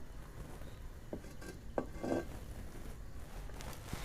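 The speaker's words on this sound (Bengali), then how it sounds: "আবার আমি চুলোতে বসিয়ে দিচ্ছি। কড়াই আমি দিয়ে দিচ্ছি অল্প তেল।" A few clanks of a metal wok being set on a stovetop, brief and moderately close, over a low steady background hum.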